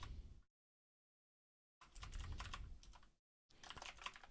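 Bursts of rapid computer keyboard typing during a programming session, close and fairly loud, in three runs separated by pauses of silence; no talking.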